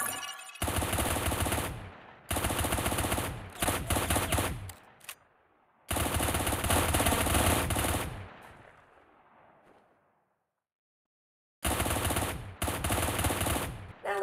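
Automatic weapon fire from the video game Cyber Hunter: loud, dense bursts of rapid shots in several long strings, broken by short gaps and a trailing echo that fades to silence before a final burst.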